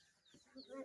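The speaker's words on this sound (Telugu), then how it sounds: "కోడి పుంజులు కోడి పందానికి రెడీ చేస్తారు" Roosters kept for Sankranti cockfighting cluck faintly in a village on an island, short soft calls in the distance.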